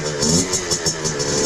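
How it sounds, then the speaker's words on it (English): A Kawasaki KX65 two-stroke dirt bike engine idles nearby with a steady, buzzy mid-range drone and slight pulsing over a short stretch. "We'll leave it idling."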